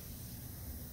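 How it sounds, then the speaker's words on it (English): A garden sprayer mists a BT mix onto tomato plants, giving a steady, close hiss that holds evenly throughout with no pauses. "you can adjust the spray pattern"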